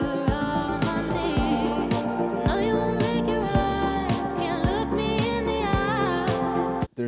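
Mellotron vibraphone twinkle playing bright ringing mallet-like notes within a full pop mix of steady bass and drums, continuous and moderately loud, no talking.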